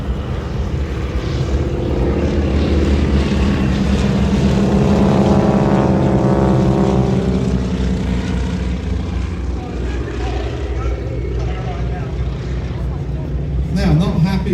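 Aircraft roaring through a dive at an air show display in Ayr, a loud, steady engine drone that swells and fades over the full stretch, with a commentator talking throughout.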